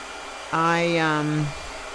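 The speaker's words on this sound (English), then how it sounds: "Blow dryer." A blow dryer whirs for about a second, a steady, buzzy whine that starts abruptly and sags slightly in pitch before cutting off.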